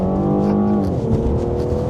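A BMW, one of only 38 made, with a 600 horsepower engine in Sport Plus mode gives a loud, steady, close engine roar with no talk over it.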